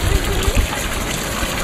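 Water fountain in Vienna splashing steadily, a close, loud continuous rushing hiss of falling water with no break.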